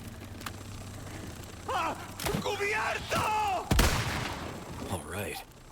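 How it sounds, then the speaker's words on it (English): An enemy fires a rocket launcher in the video game Resident Evil 4, a single heavy booming blast amid thumps and shouting, groaning game voices. "the enemy is using a rocket launcher is a great danger."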